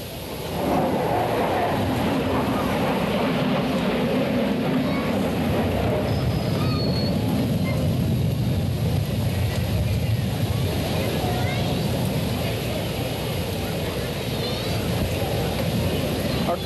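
F-14 Tomcat jet flying a 4-point hesitation roll at a 1987 airshow, a sustained loud engine roar that holds steady throughout.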